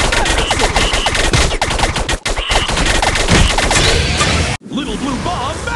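Little Blue Bomb Magisword attack from the Mighty Magiswords video game, Transylberia stage: a loud barrage of rapid crackling blasts and crashes, a brief break, then whooshing effects and a short cartoonish voice.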